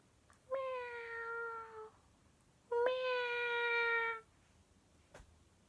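Cat in the outback giving two long, loud, drawn-out meows, each lasting over a second with a short pause between, close and clear over a quiet background.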